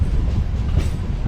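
A passenger train departs Nagireddipalli station on the Secunderabad–Vijayawada line, its steady low rumble of wheels and carriages filling the whole moment at close range with no voices.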